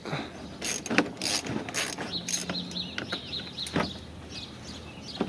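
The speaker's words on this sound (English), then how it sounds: "One more screw there with that same socket." A ratchet and socket turning out a headlight screw on a Lincoln MKX, quick clicking ratchet bursts in short runs, close and clear.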